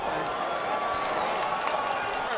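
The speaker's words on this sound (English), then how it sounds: "This crowd at a fever pitch." Boxing arena crowd roaring at the opening bell of a Miguel Cotto versus Ricardo Mayorga title fight, a steady dense wash of cheering and applause filling the hall without a break.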